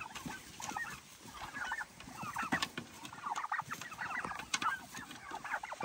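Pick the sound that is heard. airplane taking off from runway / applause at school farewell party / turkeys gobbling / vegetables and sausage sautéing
turkeys gobbling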